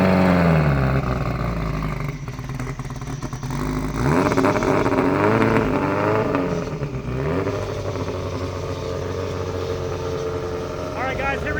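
An all-wheel-drive E85-fuelled Honda Civic FG2 race car on a FuelTech FT550 accelerates hard on a drag strip pass, its engine revving loud and close, pitch climbing through several gear changes.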